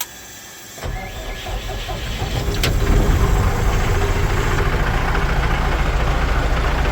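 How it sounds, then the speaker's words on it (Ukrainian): A ZIL truck engine is started while being readied for the season. After a brief quiet lead-in the heavy diesel-like motor cranks and catches, then settles into a loud, steady low idle that continues to the end. "Заводиться. Питань нема, аби ще газку додав, бо такий холостий невеличкий виставлений."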